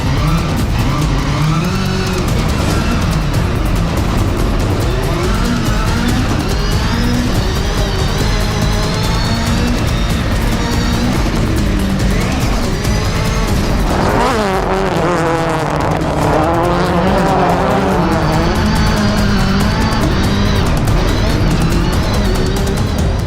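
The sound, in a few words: rallycross race cars racing into first turn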